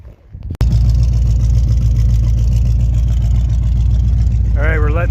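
A Dodge Caravan engine idles steadily up close with a Seafoam fuel treatment running through it, producing a loud, continuous low rumble that starts abruptly and holds evenly, with a brief voice near the end.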